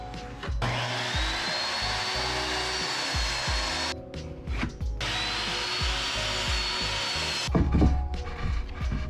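Power saw cutting 1x6 wooden boards to size for a Toyota 4Runner pull-out kitchen and bed platform: loud whining cuts in repeated bursts, separated by brief quieter pauses.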